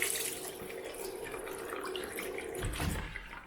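A bathroom sink tap runs steadily while water splashes over a face and Wilkinson Sword Classic razor during rinsing, with a few louder gushes near the end; no one speaks.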